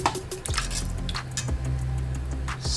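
Crushed tomatoes and tomato sauce glop and plop into a cooking pot for vegan jambalaya, making thick wet squishes and drips at close range, with no talking.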